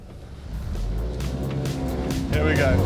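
A Toyota AE86 or a GTI pulls away at the start of a run, engine note building and rising as the car accelerates, with a brief squeal near the end and a voice over the top.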